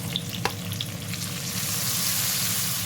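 Onion slices and chopped tomato fry in hot oil, giving a steady close-up sizzle with a few sharp pops early on that settles into a constant crackling hiss.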